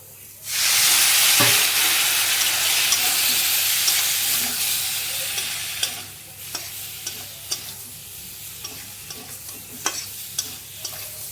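Spiced brinjal and prawn curry with chilli powder is stirred in a pan, loud continuous sizzling with a sharp onset followed by repeated scraping stirs that grow sparser and quieter toward the end.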